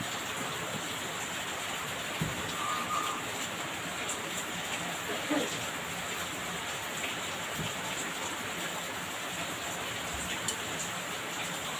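Steady broadband rain pours down in a rural Philippine setting, a dense continuous hiss with occasional soft drip knocks, filling the scene evenly with no voices.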